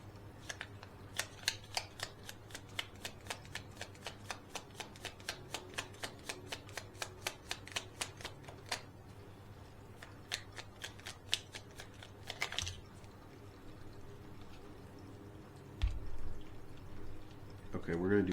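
Oracle cards being shuffled for a reading give off quick, crisp flicking riffles in a steady run, then slower scattered card handling and soft rustles, close and quiet.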